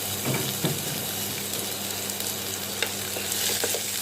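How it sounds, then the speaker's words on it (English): Finely chopped onions fry in hot oil with spluttering mustard seeds and urad dal, a steady close sizzle with scattered crackles and pops and stirring noises. "When mustard seeds start to splutter, add 2 tablespoons of finely chopped onions."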